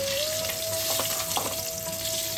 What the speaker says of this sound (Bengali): ডিমগুলোকে একটু লাল করে ভাজতে হবে, তাহলে খেতে কিন্তু বেশি ভালো লাগে